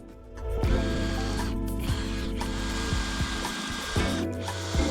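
A power drill boring pocket-screw holes into half-inch plywood for a kitchenette cabinet, a loud continuous whine with brief dips in speed, close by with no talking.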